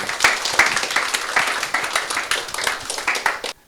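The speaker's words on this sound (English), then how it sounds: "Give him a big applause." An audience at a medical talk on stroke management breaks into sustained applause, a dense crowd of clapping hands, fairly loud and even, that continues for several seconds before stopping abruptly.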